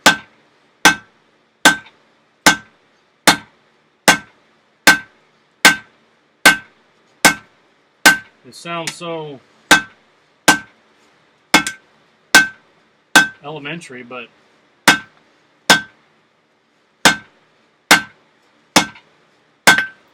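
A hammer strikes metal at a blacksmith forge in a steady, sharp, ringing rhythm of about twenty blows, close and loud, pausing twice while someone speaks.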